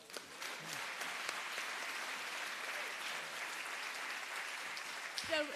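An audience applauds a speaker at a book talk: continuous clapping that stays even, with a few sharper claps standing out and some faint voices near the end.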